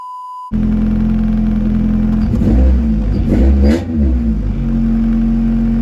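A Honda EF hatchback engine cold-starts after a brief tone, then idles loud and rough with a couple of sharp revs in the middle before settling back to a steady, close rumbling idle.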